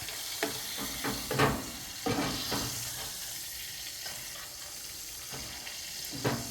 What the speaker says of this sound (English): so we're just going to let that kind of saute in that butter